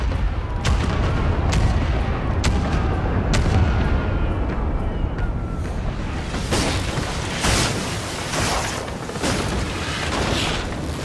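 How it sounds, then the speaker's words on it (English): Ship cannons firing in the video game Pillars of Eternity 2: Deadfire, a heavy rumbling barrage followed by a rapid run of sharp, loud blasts, one after another. "Fire the cannons!"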